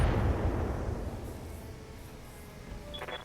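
Missile launchers firing in the mech combat game BattleTech, a deep rumbling launch blast that fades over a few seconds, followed by a faint high beeping near the end.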